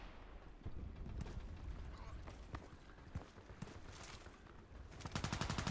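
Gunfire in the online shooter Contract Wars, a run of sharp shots at moderate distance, building into a rapid automatic burst near the end over faint game ambience.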